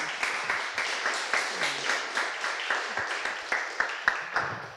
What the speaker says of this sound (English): First, some applause to Nico.